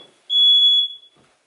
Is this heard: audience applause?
no